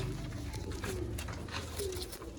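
A blue pigeon coos in low, rounded repeated calls, moderately close, over a noisy, rumbling background with no talking.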